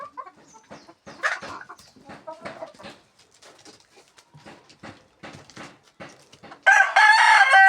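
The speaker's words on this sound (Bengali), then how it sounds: "এই যে অনেকগুলো মুরগি আছে, এখানে মোরগ আছে।" Backyard hens and a rooster, kept among ducks, cluck in scattered short bursts before the rooster lets out a loud, close crow at the end.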